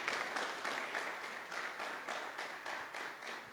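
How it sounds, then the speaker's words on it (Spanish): A church congregation claps hands together in a steady, even rhythm of repeated group claps, close and continuous for a few seconds. "Dale palmas al Señor"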